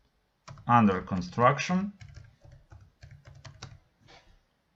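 Computer keyboard typing while coding, a run of light irregular clicks following a short stretch of speech, fairly quiet and close.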